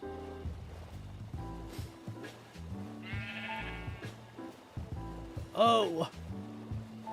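Sheep bleat in a cozy ship-building game, a few wavering bleats over a bed of game sounds and noise, one louder bleat standing out near the end.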